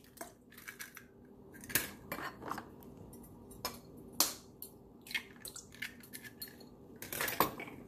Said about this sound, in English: get cracking with the egg